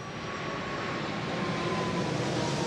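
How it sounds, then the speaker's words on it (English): A fixed-wing airplane flies overhead outdoors during a dog training session, its engine a loud, steady, broadband roar that holds constant throughout without other sounds breaking through. "He hears the airplane."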